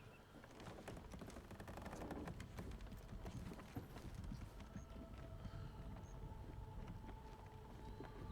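Robot horse hooves clop steadily on the ground in Horizon Forbidden West, a continuous rhythmic gallop heard close under windy outdoor game ambience.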